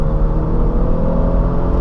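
2017 Infiniti Q50 2.0 turbo automatic accelerating, a loud, close, steady engine drone with a mild whine, heard from inside the car without talk.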